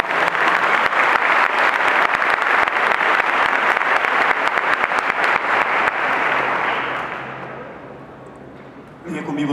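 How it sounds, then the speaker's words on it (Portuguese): A church congress congregation applauds in a large hall, a loud, dense rush of clapping with sharp individual claps that holds steady, then thins and fades out near the end as a voice returns. "Vamos aplaudir essa palavra,"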